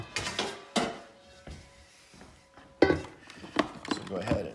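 A bowl being grabbed and handled in a kitchen during preparation of a cranberry salad, with a few sharp clinks and clatters in between someone talking.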